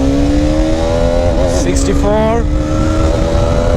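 A Karizma XMR 210 motorcycle engine drones loud and steady, its tone rising and shifting as the rider accelerates through the gears, with someone talking over it throughout.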